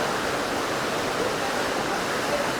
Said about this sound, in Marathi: ही आमची कासाडी नदी आणि हा चालू आहे मे महिना आणि खरोखर मे महिन्यामध्ये एवढी मोठी पूर परिस्थिती निर्माण झालेली आहे